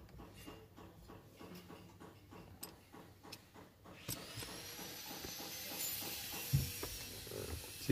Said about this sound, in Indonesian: Kencangi mur setir secukupnya, jangan terlalu keras.